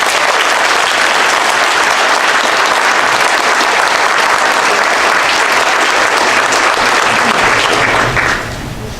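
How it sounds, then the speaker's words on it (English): Sustained loud applause from an audience at a Clayton County Chamber of Commerce valor awards ceremony, steady dense clapping for nearly nine seconds before tapering off at the end. "How about another round of applause?"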